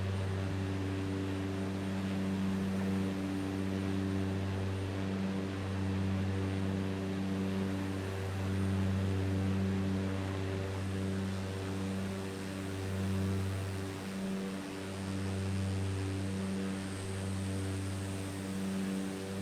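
Cessna Caravan single turboprop engine in Microsoft Flight Simulator 2024, a steady, loud tonal drone with a strong low hum and layered harmonics, continuous and unchanging throughout with no talking.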